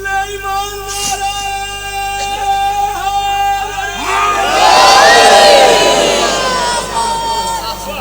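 Crowd at a Shia majlis gathering chanting slogans, a lone voice leading with sustained tones before many voices erupt together in a loud collective shout that swells and then fades.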